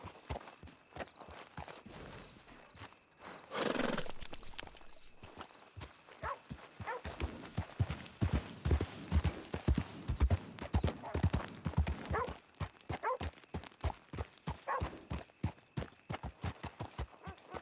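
Horse hooves clip-clop in the video game Red Dead Redemption 2. The close, rhythmic hoofbeats run steadily, with a brief snort or whinny early on.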